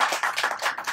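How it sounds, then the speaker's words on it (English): An audience at a vegan talk anniversary celebration claps together in a dense, lively burst of applause, the hand claps overlapping steadily throughout. "a big round of applause, first of all, to Gaurav Kungaurav Kejriwal,"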